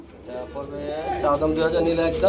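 White Tumbler pigeons coo in soft, repeated throaty calls close by, with a person talking over them.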